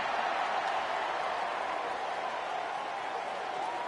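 Stadium crowd noise in College Football 27 at a Colorado at Georgia Tech game: a dense, steady roar of many voices and scattered clapping, constant and fairly loud throughout without a break.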